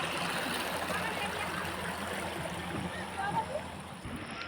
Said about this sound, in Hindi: ये हमारे खेत में जाने वाला पानी देखो कितना मोटा आ रहा है